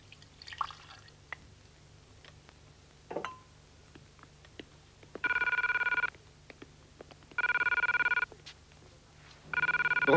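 A red telephone at a missile silo rings in three evenly spaced electronic bursts, each about a second long, clear and moderately loud over a quiet room with a few faint clicks and drips between rings.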